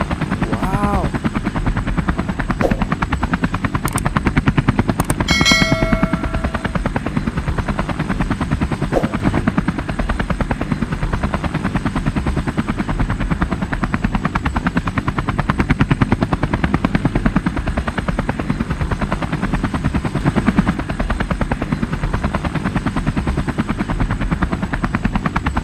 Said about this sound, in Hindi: जो देखो कितना सुंदर ऑरेंज कलर का हेलीकॉप्टर है। वाह कितना सुंदर चल रहा है